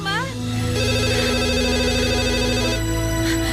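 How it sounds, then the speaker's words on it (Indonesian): A telephone rings with a repeated electronic ringtone of steady tones, loud and close, layered over background music in an indoor drama scene. "Loh, telepon."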